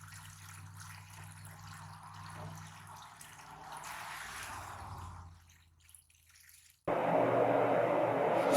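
Water and grit gush out of a freshly flushed tank, a steady rushing flow that dips briefly before surging back louder and closer, filling the space with broad splashing noise.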